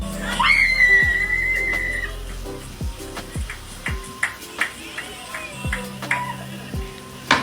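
A woman lets out a loud, high, sustained scream as her Army boyfriend surprises her on his return home for Christmas, followed by a scatter of sharp clicks and taps.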